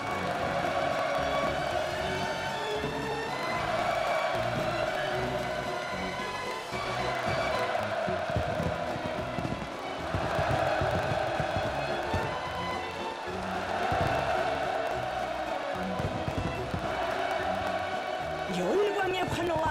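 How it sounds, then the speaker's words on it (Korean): Crowd cheering and applause at a ribbon-cutting ceremony, with celebratory fireworks shots bursting and balloons released. A dense, steady roar of many voices runs loud and continuous throughout, with a narrator talking over it. "열광의 환호와 경축의 축포탄들이 터져오르고"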